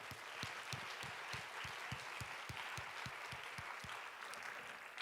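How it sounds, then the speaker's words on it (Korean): A church congregation claps in a quiet, steady burst, with individual hand claps distinct and spaced fairly evenly, heard from a distance in the room. "우리 모든 예배를 섬기는 이들과 또 우리 특선자들 모든 팀들 우리 뜨겁게 다시 한번 박수하도록 하겠습니다."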